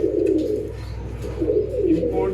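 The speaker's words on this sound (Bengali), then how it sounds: "ইম্পোর্টেড কবুতর" Imported exhibition homer pigeons from Europe coo in soft, repeated low rolling phrases, fairly close, with faint background murmur.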